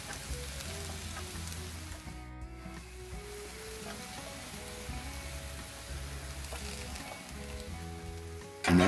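Homemade pecan-and-apple-smoked kielbasa, cabbage and onions fry on a Blackstone griddle with a steady, close sizzle and crackle that runs throughout, under tuneful background music.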